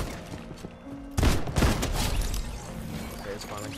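Gunfire in a video game: dense, rapid bursts of loud, close shots crack in about a second into the clip and keep rattling over a busy game soundscape, with a voice occasionally heard.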